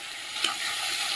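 Tomato drops into hot oil already tempered with black cumin seeds, giving a brief, bright sizzle burst that settles into a steady hiss close by.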